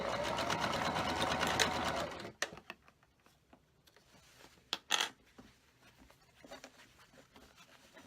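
A sewing machine runs a quick, steady burst of stitching through a leader-ender quilt block scrap, then stops. Quiet handling clicks and taps follow.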